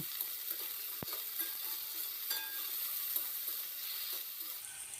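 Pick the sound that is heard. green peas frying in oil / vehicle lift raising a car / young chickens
green peas frying in oil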